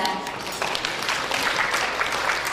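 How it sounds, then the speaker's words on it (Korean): Guests at a medical street festival opening clap together after a toast, a short burst of crowd applause with a voice briefly heard at the start. "박수 부탁드리겠습니다"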